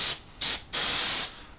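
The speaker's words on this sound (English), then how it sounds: "just going to spray this high air pressure down onto the decking" High-pressure air sprayed onto the decking of a 1/48 scale Italeri Chinook model: three sharp hissing bursts, two short and then a longer blast, loud and close.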